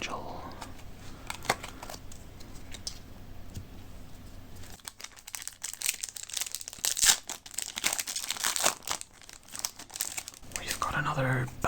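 Foil wrappers crinkle and tear as Magic: The Gathering Streets of New Capenna booster packs are opened. The close rustling grows busier and louder partway through, under soft talk.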